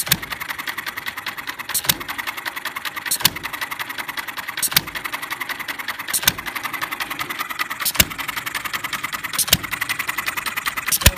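A half-scale model Perkins hit and miss engine chugs steadily with rapid firing pulses and a sharp louder bang recurring every second and a half, close and continuous.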